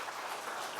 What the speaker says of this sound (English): please give a round of applause for our panelists for this first part